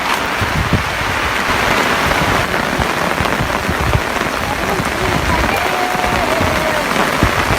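Heavy rain pouring onto the Mekong River, a dense close hiss of drops with patters and splashes, loud and unbroken throughout.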